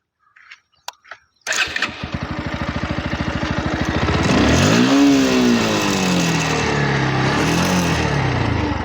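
A Bajaj Pulsar NS 125 motorcycle is kicked over after a few clicks, cranks with a rapid stutter, then catches and revs up loudly before settling into a steady close idle.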